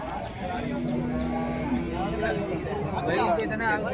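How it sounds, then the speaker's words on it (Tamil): A pair of jallikattu bulls at an open Friday cattle market, with a long, loud moo rising over busy crowd noise while people talk nearby. "ஸோ இங்கே ஒரு ஜோடி ஜல்லிக்கட்டு காளை இருக்கு பாருங்க."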